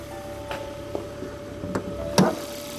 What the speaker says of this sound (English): Car is running now, you can see it's very quiet